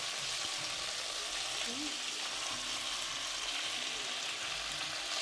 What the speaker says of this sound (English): So I bought both brisket and blade. That's it browning in there.